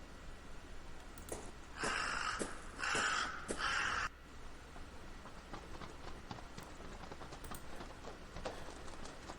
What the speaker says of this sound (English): A murder of crows is savagely eating something.